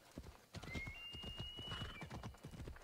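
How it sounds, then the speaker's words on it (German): Rapid hoofbeats of a galloping horse in Assassin's Creed Odyssey clatter steadily throughout, with a horse whinny partway through and faint background ambience. "Oh, das Pferd ist schnell."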